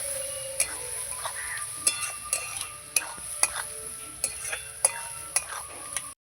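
Mutton liver and potato stir-fried in spice paste, a soft steady sizzle under a regular series of sharp spoon-on-pan scrapes and knocks, close and moderately loud, with no voices.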